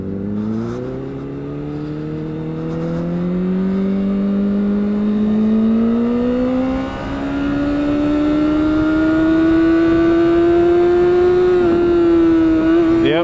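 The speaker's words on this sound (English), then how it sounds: "I'm gonna stay in first for this little run down the street to get the revs up a little higher" A 2008 Honda CBR600RR sport bike revs in first gear during a short run down a street, its engine pitch climbing steadily, loud and close, with a brief dip partway before rising again.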